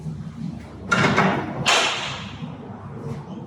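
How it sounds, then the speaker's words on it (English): An internal degassing door slides and closes with two dull thuds about a second apart, the second followed by a brief fading rumble, close by and alone. "we then close our internal door"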